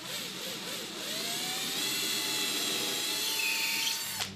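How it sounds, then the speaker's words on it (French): A power drill fitted with a countersink bit pre-drills a wooden board for a bathroom cabinet, giving a steady, rising whine for about four seconds before stopping abruptly. It is close and loud, with no talk. "Préforez ensuite votre deuxième planche."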